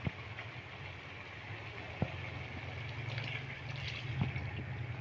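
Water is poured into a pot of Hyderabadi-style chicken and tomato curry to help the chicken cook tender, making a faint, steady rushing sound with a few light knocks and no speech.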